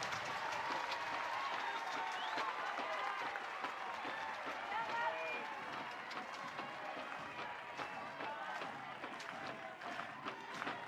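Crowd noise from spectators at an NCAA college softball game between Oklahoma and Clemson, a steady broad murmur with scattered claps and cheers filling the whole stretch at moderate distance, with commentary voices over it.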